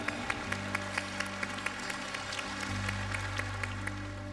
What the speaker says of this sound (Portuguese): salva de palmas à Eucaristia